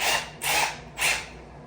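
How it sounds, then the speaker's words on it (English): A power drill bores out a small hole behind PVC cove base moulding at a bathroom vanity, running in three short, close, loud bursts separated by brief pauses. "I need to drill this out one more time"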